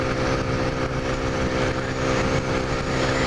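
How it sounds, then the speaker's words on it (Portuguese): A motorcycle engine drones steadily on a road on the way to a bikers' gathering, a continuous buzzing hum at fairly close range with no break for several seconds. "Agora sim encontramos moto na pista."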